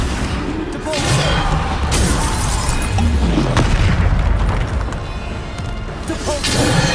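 Spell impacts in the Hogwarts Legacy video game, a dense, loud barrage of booming blasts, crashes and shattering hits in quick succession, with voiced spell incantations over the combat.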